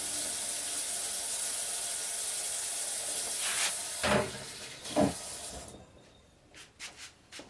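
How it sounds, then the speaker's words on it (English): Tap water runs steadily into a kitchen sink as hands are rinsed after mixing homemade pork sausage, with a few splashes and hand movements before the flow shuts off and small drips and clatters follow. "Rinse my hands."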